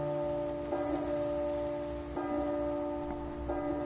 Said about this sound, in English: Last time the bells.